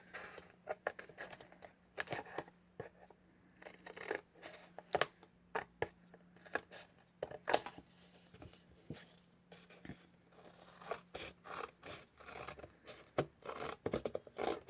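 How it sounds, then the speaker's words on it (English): Scissors snipping through thick cardboard for a ring-bound art journal, a steady run of short crisp cuts and scrapes, quiet and close, with no voices. "So I'd rather take my chances with the scissors and not cut straight then."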